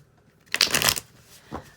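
A single quick riffle of tarot cards, close and crisp, lasting about half a second, followed by a soft tap as the deck settles.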